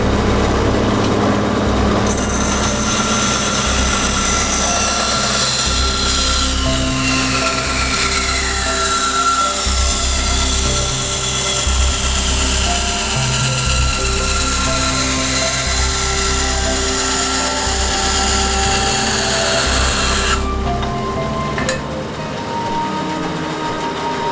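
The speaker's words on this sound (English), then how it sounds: "When cutting around things on a bandsaw, you're going to be really careful that it doesn't actually grip the thing and then start spinning on you" A bandsaw runs loud and steady while a blade cuts through PVC for a laminated compound bow, its motor hum layered with a high whine that drops away near the end as the cut finishes, with no talk.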